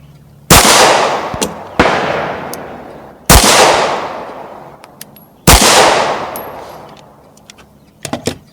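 A CZ P10c striker-fired pistol fires at a shooting range: four loud, sharp shots spaced about a second or two apart, each with a ringing decay. Faint metallic clinks fill the gaps, and a few quick clicks follow at the end.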